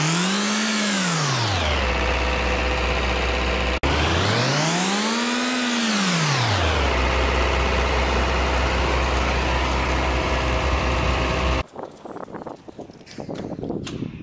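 A cement tank trailer truck's engine revving up and down in two smooth sweeping rises and falls, a loud close droning hum that cuts off abruptly near the end, leaving faint rustling.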